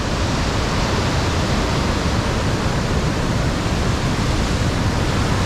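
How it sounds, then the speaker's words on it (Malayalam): A Munnar waterfall swollen by November rains, its water rushing down in a steady, loud, unbroken roar close by, with no voices over it. "കണ്ടോ, വെള്ളം ഇങ്ങനെ താഴേക്കൂടെ ഒലിച്ച് പോവാണ്."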